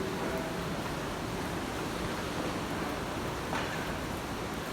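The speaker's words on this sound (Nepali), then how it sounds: "यहाँबाट चाहिँ पानी बग्दो रहेछ" Water flowing inside Gupteshwor cave makes a steady, even rushing wash that fills the space without pause, moderately quiet and with no voices.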